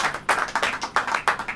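A church congregation claps together in welcome at a Hindi praise service, steady rhythmic hand claps in quick repeated bursts, close and lively, with no one speaking.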